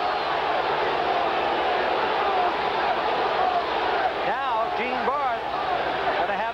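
1986 NFL game crowd at New England Patriots stadium roaring and booing over a disputed Falcons touchdown call, a loud sustained crowd noise with individual shouts rising, a commentator talking over it.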